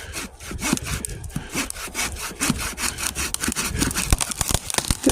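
A hand saw cuts through a standing tree trunk at a campsite, sounding as close, rough, steady back-and-forth rasping strokes in a fast, regular rhythm, heard alone without voices.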